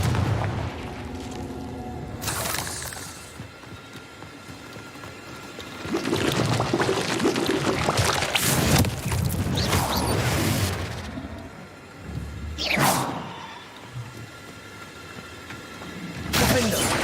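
Confringo explosion spells in the video game Hogwarts Legacy go off as several loud booming blasts at irregular intervals, mixed with spell-casting whooshes and a voice shouting incantations.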